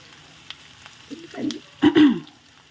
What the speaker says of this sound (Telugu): ఉల్లిపాయలు బాగా ఫ్రై చేసుకుందాం.